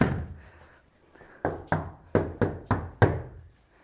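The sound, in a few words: knocking on a heavy solid exterior door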